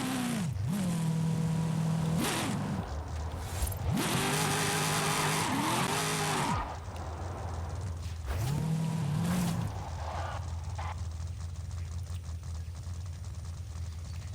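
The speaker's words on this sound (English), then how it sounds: "Just to prove I can drift anything." A Dodge Challenger Demon on a drag tune drifts with loud, sustained tire squeals that rise and fall in several long bursts over the roaring engine, close and continuous with no talking.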